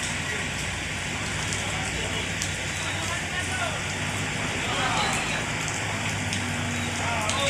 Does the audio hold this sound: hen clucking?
no